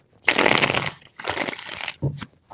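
Tarot cards shuffled by hand in two long riffling bursts followed by a short final flutter, crisp and close, with no voices during the shuffles.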